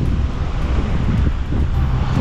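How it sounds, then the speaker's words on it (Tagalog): Strong wind before rain blows in a steady, dense low roar, continuous and loud with no voices, much like a distant rumbling engine. "Lakas ng hangin, uulan nga to."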